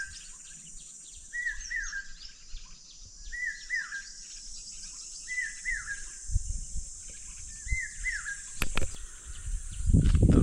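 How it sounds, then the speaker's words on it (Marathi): A common hawk-cuckoo calls from a mango tree: repeated short, rising whistled phrases come at a steady interval from some distance, with insects buzzing faintly behind and a few low thumps near the end. "त्या समोरच्या आंब्याच्या झाडावरती आहे तो पक्षी. पावशा गो बोलतोय का पेरते व्हा बोलतोय."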